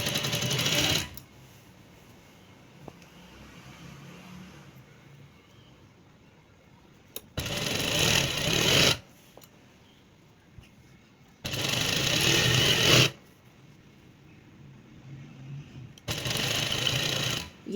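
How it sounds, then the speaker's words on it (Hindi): A sewing machine stitches lace with piping onto a shirt, running in four separate bursts of rapid whirring, each lasting a second or two, with quiet handling between them. "ये यहाँ कोने पर आकर हम इसको पूरा यहाँ तक सिलाई कर लेंगे।"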